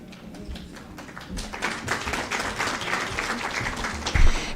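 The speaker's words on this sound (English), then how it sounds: "thank you for clapping" Audience applause at a lecture and awards ceremony, a steady patter of many hands clapping that swells slightly midway and carries on for several seconds in a large room, with no one talking over it.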